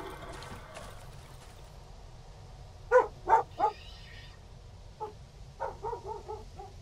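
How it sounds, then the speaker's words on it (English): A dog in the game Darkwood barks three sharp times at mid-distance, then gives a quicker, softer run of barks over a low ambient hum. "Yeah, she's barking at something."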